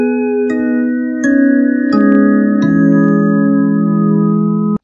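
Sampled one-shot sound triggered repeatedly from a MIDI keyboard in FL Studio, four overlapping sustained pitched hits with sharp attacks, each note ringing on and piling up into a dense, cluttered drone, loud and without talk.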